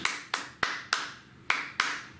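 Hands clap a counted rhythm in a saxophone lesson, six sharp, close claps in an uneven pattern with a gap mid-phrase, alone with no talking over them.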